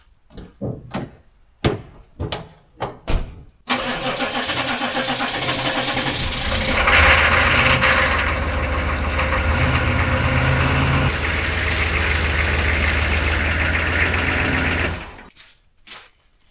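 A pickup truck engine cranks in several short bursts, catches and settles into a steady, loud, close idle, with no one speaking.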